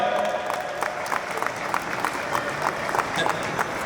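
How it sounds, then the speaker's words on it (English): Audience applause at the inauguration of the Upspaces venue in Thane, a steady wash of clapping from a crowd that stays at an even level for the full stretch with no clear voices. "So if you all can give a big round of applause, this is a special token of appreciation for ma'am over here"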